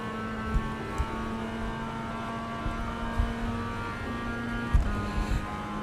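Mazda MX-5 race car engine in iRacing, a steady mid-level engine hum with faint intermittent thumps, heard alone at moderate distance.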